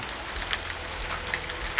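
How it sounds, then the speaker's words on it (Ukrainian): Rain falls steadily in a soft hiss, with a few distinct drops tapping nearby at irregular intervals. "видно, що падає дощ"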